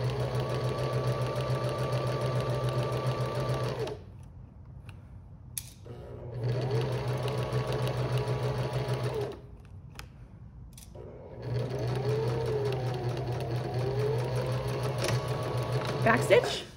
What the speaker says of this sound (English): I'm gonna sew all the way down on top of that previous stitch.